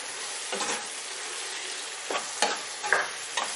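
Ginger garlic paste and salt fry in a pan as an even, moderate sizzle. Four or five brief scraping strokes of a spoon mixing them are spaced through it, and no one speaks.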